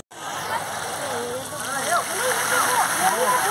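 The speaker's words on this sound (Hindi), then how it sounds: "काफ़ी मस्त लग रहा है झरना" A park waterfall rushes in a steady, broad wash of falling water, growing a little louder over a few seconds, with people's voices chattering faintly beneath it.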